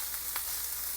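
Spaghetti squash tossed with mushrooms and pesto sautés in a pan over lowered heat, giving a steady soft sizzle with a brief scraping toss partway through, fairly quiet and with no talk.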